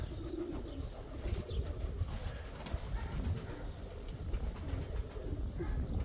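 Pigeons kept in a home loft coo nearby in a steady, low murmur, with soft rustling and no talking.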